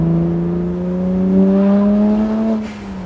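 A modified BMW 1M's engine revs steadily higher, its droning pitch rising as it accelerates, then eases off near the end, heard from inside the car.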